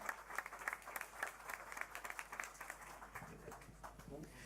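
An audience at an election debate applauds as a speaker comes up, scattered moderately close clapping that thins toward the end while a voice begins to talk over it.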